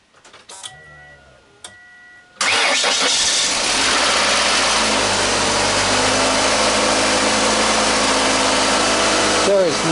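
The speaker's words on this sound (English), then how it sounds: "old lawn tractor battery, start this 2-liter motor" A 2-liter car engine cranks briefly and then catches on an old lawn tractor battery, starting at once and settling into a steady, loud, close idle that runs for several seconds.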